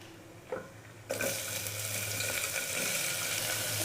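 Food drops into a hot pan and a loud, steady sizzle of onions frying in oil for tomato kurma starts up and continues without talking.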